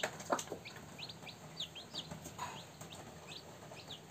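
Backyard chicks peeping in quick high chirps with occasional soft clucks from a rooster, scattered and fairly faint against a quiet background.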